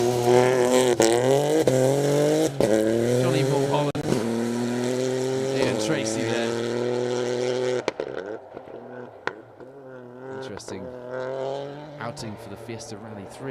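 Ford Fiesta Rally 3 car on a Cumbrian stage of the Malcolm Wilson Rally, its engine droning loud and steady with rising and falling revs, then easing to a quieter passing tone, with commentary talk over it.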